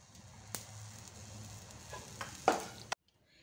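Masala with curry leaves frying in a pan, a soft steady sizzle close by with a few sharper crackles and clinks near the end before it cuts off.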